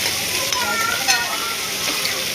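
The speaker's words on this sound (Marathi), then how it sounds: "यामध्ये आपण कढीपत्ता टाकूया आणि कापलेला कांदा पण टाकूया। याला आपण हळवून घेऊया" Sliced onion and curry leaves frying in a pan, a loud steady crackling sizzle with a few stirring scrapes, close up and without talk.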